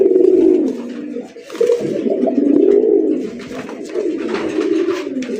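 Red racer pigeons of the Raj Golla breed coo close by in deep, rolling, repeated throaty calls that overlap almost continuously, with no talking.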